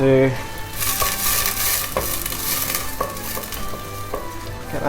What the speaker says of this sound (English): Get your butter melting. Throw our onion in there.